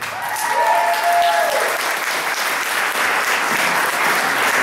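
A concert audience applauds a competition winner with steady, dense clapping that holds at an even level throughout, while a presenter speaks briefly over it.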